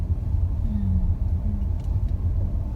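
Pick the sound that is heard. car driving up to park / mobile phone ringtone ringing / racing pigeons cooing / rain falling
car driving up to park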